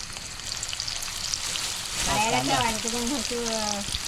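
Garlic sizzling and frying in hot oil for crab curry, cooked outdoors, a steady loud hiss throughout, with a person talking over it in the second half.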